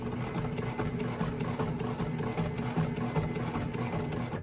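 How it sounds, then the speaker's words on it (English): Sailrite Ultra Feed sewing machine running continuously, a steady mechanical whirring hum with a fine rapid stitching rattle, close but fairly quiet. "Brand new Ultra Feed. Sailrite Ultra Feed sewing machine."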